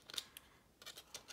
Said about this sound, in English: so let me snip that